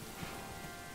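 Rain falling in the medieval city-building game Manor Lords, a soft, even hiss of drops pattering across the scene, continuous and fairly quiet over one brief second with no voices.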